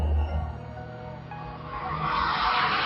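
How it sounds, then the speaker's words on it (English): A loud lorry roars past near a balcony, a loud low rumble swelling into a broad hissing rush of tyres and engine. "there's a very loud lorry going by"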